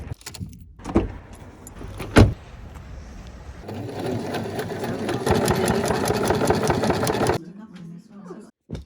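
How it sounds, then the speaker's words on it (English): A sewing machine runs in a steady burst of several seconds, stitching camper van curtains in a workshop, with a few sharp clicks and knocks before it starts and quiet handling noises after it stops. "now I'm gonna head to the shop and sew them"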